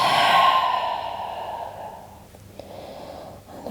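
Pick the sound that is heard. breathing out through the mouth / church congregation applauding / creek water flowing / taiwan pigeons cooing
breathing out through the mouth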